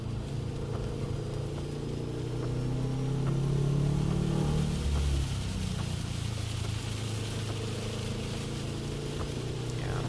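A car creeps slowly along a wet road in the rain, its engine a low, steady hum under a constant wash of tyre spray and rain noise, with a slight swell midway.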